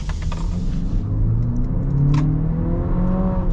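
The 4-cylinder turbo engine of a 2026 Nissan Murano Platinum revs and climbs in pitch as the car accelerates, a steady close whir and rumble rising smoothly over a few seconds.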